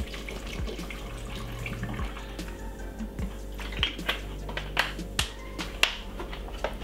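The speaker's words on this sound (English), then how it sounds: "Then I'm going to put some water because I'm going to be straining it." Water poured into a blender jar holding orange and mango for homemade juice, a running trickle in a kitchen broken by sharp clicks and knocks, with no talking.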